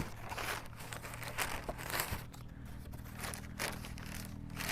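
A plastic garbage bag is folded and creased like a gift box to line a vegetable planting box, giving soft, quiet crinkling and rustling in irregular bursts, close by with no talking.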